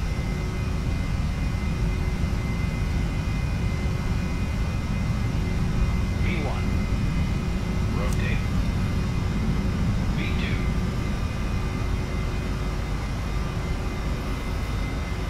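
Jet airliner engines roar steadily through a takeoff roll in a flight simulator, a loud, unbroken broadband rumble with faint brief tones over it.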